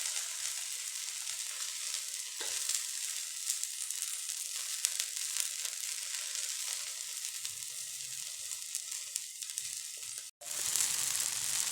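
A rice flake and wheat flour adai cooks on a pan with a continuous gentle sizzle and faint crackles, interrupted by a brief break near the end.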